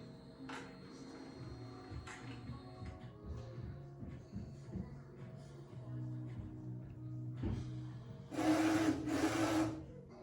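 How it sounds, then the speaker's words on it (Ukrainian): A DTG UV printer whirs and clicks through a start-up initialization cycle of mechanical motor hums, ending with two short loud bursts of carriage movement. "Принтер проходить ініціалізацію"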